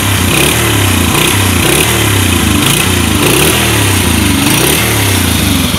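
A Honda Super Cub motorcycle's small single-cylinder engine runs steadily at close range, a loud, even putter with a rapid regular beat that holds throughout without revving.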